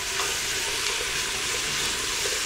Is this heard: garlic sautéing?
yes